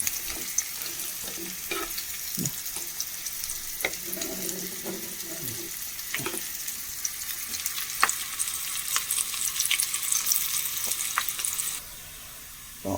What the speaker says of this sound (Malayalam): ഉള്ളി അരിഞ്ഞ് വെച്ചിട്ടുണ്ട് അതിട്ട് കൊടുക്കാം നന്നായി മൂത്ത് വന്നോട്ടെ